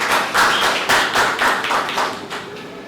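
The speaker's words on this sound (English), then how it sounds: "A round of applause, Ashley." An audience at a Ghana trade and investment website launch event claps in a steady round of applause, moderately loud and fairly close, with no talking over it.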